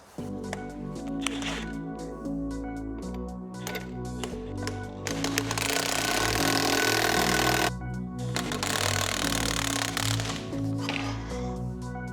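A puller tool works a pulley off a Mini Cooper engine, with close, irregular mechanical clicks, creaks and ratcheting scrapes, including a denser grinding stretch midway.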